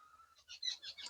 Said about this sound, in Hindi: यहाँ पर वो देख रहे हैं चिड़िया, बड़ी खूबसूरत चिड़िया जो है वो यहाँ पर बैठी हुई है।